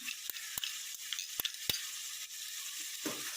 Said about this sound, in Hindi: अब मैं इसमें लहसुन अदरक का पेस्ट शामिल कर देती हूँ